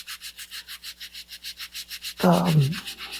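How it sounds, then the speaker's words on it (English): Rhythmic back-and-forth rubbing of a sanding block on a model rocket part, about fifteen even strokes, followed by a brief louder scraping squeak. "when I push the sanding block on top"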